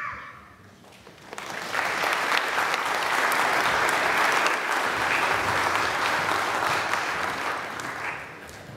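A large church congregation claps steadily and warmly for confirmands for several seconds, building quickly after a quiet start and fading slightly near the end.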